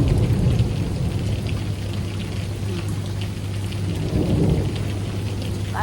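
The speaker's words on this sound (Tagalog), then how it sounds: "Heavy rain today." Heavy rain pours steadily on a rainy Sunday morning, a dense continuous wash of drops with a low rumble beneath, loud and unbroken throughout.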